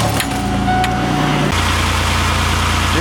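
A 1999 Pontiac car engine cranks over and catches, then settles into a steady, close idle with a low continuous hum.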